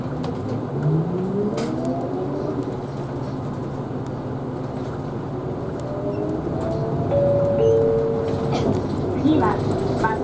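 Toei city bus in Tokyo pulling away from a stop, its motor whine rising in pitch as it accelerates, with a steady interior rumble and a louder surge near the end.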